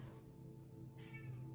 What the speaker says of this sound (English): My little kitty cat is meowing if you're hearing it